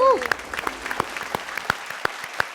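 Scattered handclaps from a small audience cheering on a contestant named Shreya at a comedy talent hunt, sparse, uneven and fairly close, with a brief voice at the very start.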